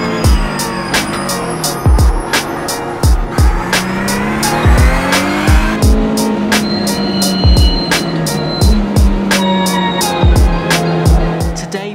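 Race car engine in a racing video game on a simulator howling through repeated downshifts, with tires squealing and skidding under hard trail braking, loud and continuous with no talking.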